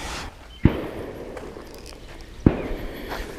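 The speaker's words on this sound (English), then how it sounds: "can you hear me over the gunfire?" Two sharp, isolated gunshots crack across a lake, about two seconds apart, each a single loud report over a quiet outdoor background during a carp and catfish fishing trip.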